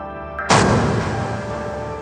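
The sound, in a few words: cannon fire hitting a logistics barracks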